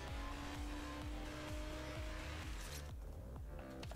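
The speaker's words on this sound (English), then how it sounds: "I didn't drift properly." A car drifting in the Asphalt 9 Legends racing game, its engine revving in repeated rising, gear-shifting sweeps under a sustained tire squeal, loud and continuous.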